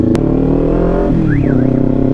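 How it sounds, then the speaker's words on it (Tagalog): A car alarm sounds on a road over the loud, steady engine drone of a Kawasaki Ninja 400 motorcycle. The alarm's rising and falling siren tone is faint and brief beneath the engine. "tumunog yung alarm."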